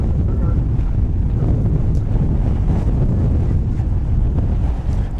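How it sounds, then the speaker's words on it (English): Gusty wind at DFW Airport batters the microphone in a loud, continuous low rumble with fluctuating buffets, no other sound standing out. "Gosh, it's gusty today"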